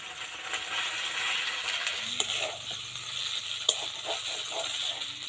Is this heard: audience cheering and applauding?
no